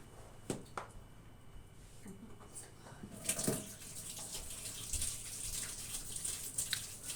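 A tap runs in a home kitchen while hands are washed, water streaming and splashing at moderate volume after some scattered knocks, close by, with a voice heard briefly.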